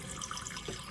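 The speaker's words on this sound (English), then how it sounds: "you can push the pump button, and that'll allow you to pull water through your taps" Water runs steadily from a tap in an Autosleeper Duetto campervan as the onboard pump draws it through, a continuous close splashing flow.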